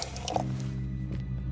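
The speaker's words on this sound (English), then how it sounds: "A flask. Maybe I fill it with water." In the horror game True Fear: Forsaken Souls, a flask is filled with water: a close, wet squishing gurgle comes first, then a drippy liquid tone fades out over the next second.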